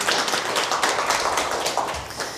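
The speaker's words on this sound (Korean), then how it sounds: "박수 좀 부탁드리겠습니다" Lecture audience applauding in a hall, a dense, steady wash of many hands clapping that fills the whole moment at even loudness.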